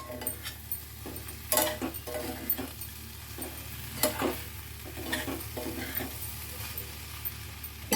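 Red lentil dal sizzles softly in a pan while a spatula stirs it, making intermittent scraping and clinking strokes over a low, steady frying hiss. No one speaks.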